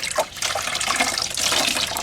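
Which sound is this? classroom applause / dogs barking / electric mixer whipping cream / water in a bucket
water in a bucket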